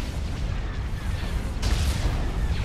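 Laser cannon fire during a space battle in Star Wars: Forces of Corruption, a dense, continuous barrage of booming shots and rumbling impacts with no distinct pauses.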